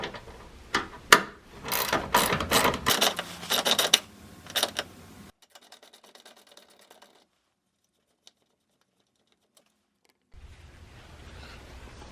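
A ratchet wrench loosens a 10 mm bolt on a Caravan engine near the throttle body, with a run of quick clicking bursts and metallic rattles up close, then quiet.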